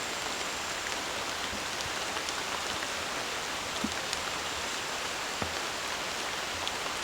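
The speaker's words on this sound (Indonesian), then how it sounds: "Wow, hujannya lebat." Heavy rain pours steadily at a night campsite, a dense, continuous hiss with scattered nearby drops tapping on surfaces, close and unbroken throughout.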